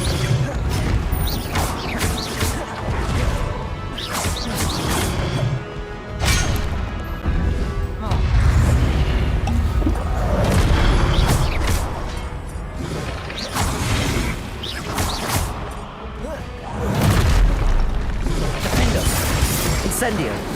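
Confringo and Incendio spells in Hogwarts Legacy burst in repeated crashing, fiery explosions with whooshes and thuds, loud and close in a steady run of casts, while a voice speaks throughout.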